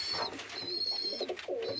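Pigeons coo in soft, throaty, rolling bursts close by, with a faint high whistle in the background.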